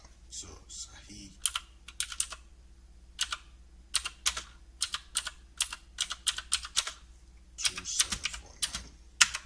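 Keys on a computer keyboard being typed in short bursts of sharp, close clicks separated by brief pauses, with a faint steady hum underneath and no talking.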